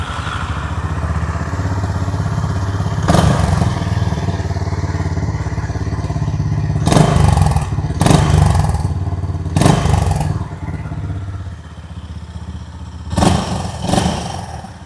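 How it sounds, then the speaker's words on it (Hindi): A 2026 Honda CB350 H'ness 350cc motorcycle idles with a steady low exhaust thrum, broken by several sharp throttle blips and revs that swell and fall back, heard up close with no talking. "आइए अब सुन लेते हैं इस बाइक की एग्जॉस्ट नोट।"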